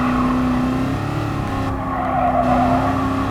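A race car in the video game Gran Turismo Sport brakes hard, its tires skidding and squealing over a steady, droning engine note for a few seconds.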